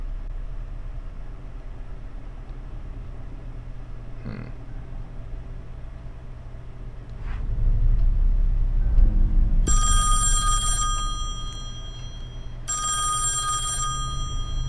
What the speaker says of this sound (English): The phone. Should I answer?